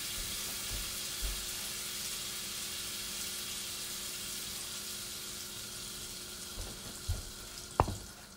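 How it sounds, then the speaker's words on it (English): Steady hissing sizzle of chicken thighs frying in a hot pan with melted browned fat, continuous throughout, with a few soft clinks and taps near the end. "Hear that delicious sizzle."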